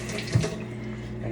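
A kitchen tap runs steadily as a spoon is rinsed under it, a close, soft, continuous rush of water with a small clink partway through.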